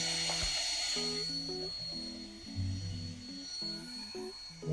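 A cordless drill whirs steadily close by, mixing pool chemicals while a backyard pool is opened, its motor pitch wavering as it runs under a faint high whine, with no talking.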